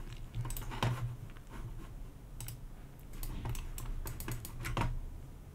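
Typing on a computer keyboard while entering an expression in Houdini software: quick irregular key clicks in short bursts, close and fairly quiet, with no talk.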